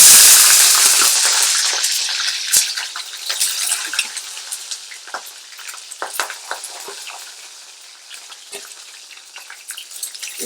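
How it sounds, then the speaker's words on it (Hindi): Onion and capsicum hit hot oil with a loud burst of frying hiss that gradually settles into a steady sizzle, with spatters and crackles scattered throughout, close up and without talking. "इसी ऑयल में अब हम प्याज और शिमला मिर्च फ्राई कर लेंगे।"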